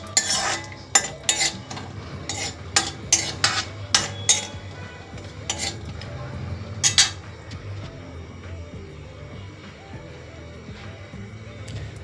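Wheat flour roasting in a pan for laddoos, stirred with a metal spoon that scrapes and clinks in a quick irregular series of close strokes, then settling into a softer steady sizzle.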